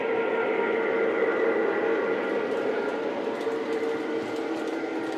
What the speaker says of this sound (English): as the train comes sweeping by